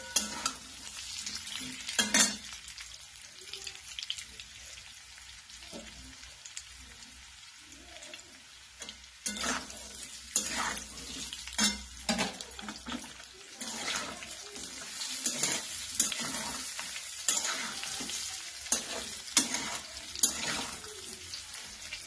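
Alu vadi slices shallow-frying in oil with sesame seeds, giving a steady sizzle with repeated scraping and stirring strokes in the pan, close and clear, with no talk.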